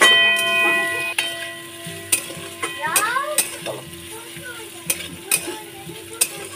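Vegetables, chilli and onions being stir-fried in a pan for fried rice give a light sizzle under sharp, repeated clicks and scrapes of a utensil against the pan, with a few brief squeaky tones in the middle.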